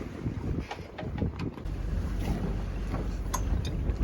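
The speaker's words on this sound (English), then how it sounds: "Now we have wind from the other side," Wind buffets the microphone on a boat sailing off Ibiza, a loud, continuous low rumble and roar with water rushing around the hull, and no talking.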